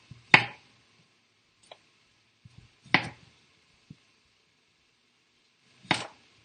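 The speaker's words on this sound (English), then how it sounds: "Almost done with my chopping here." Three sharp knife chops through potatoes on a board, spaced a few seconds apart, with a few faint taps and clicks in between.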